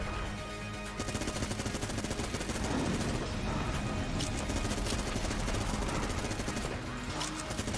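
A boss in Enter the Gungeon fires volleys of bullets, a dense, loud, continuous burst of rapid game gunfire and impacts that runs unbroken for several seconds.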